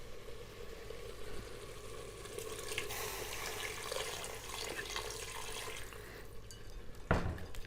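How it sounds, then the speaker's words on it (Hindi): Water is poured into a mutton and potato curry in a pressure cooker, a faint, steady splashing stream running for several seconds with a louder clatter near the end and no talking. "अब इस हिसाब से मैं पानी डालूंगी कि गोश्त गल जाए और टूटे भी ना"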